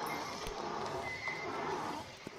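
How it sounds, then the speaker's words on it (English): A mule in the Roblox game The Wild West neighs loudly and close, with clip-clopping hooves running underneath throughout the short burst. "you're gonna wanna hit call on the mule. And the mule is pretty slow, but it's pretty good for a starter horse"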